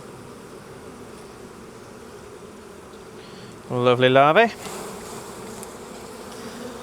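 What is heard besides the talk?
honeybees buzzing around an opened hive during a split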